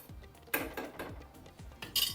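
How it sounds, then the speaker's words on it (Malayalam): Ladle scraping and clinking against a metal pot while fish curry is stirred, several soft knocks and scrapes close by, quiet with no talking. "ഇപ്പോൾ ഈ തവിയൊക്കെ ഇട്ട് ഇളക്കാം."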